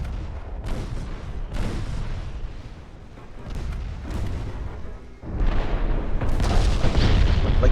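Naval gunfire between warships in the strategy game Ultimate Admiral: Dreadnoughts, heavy booming salvos going off every second or so, with a louder cluster of blasts toward the end and no voices over them.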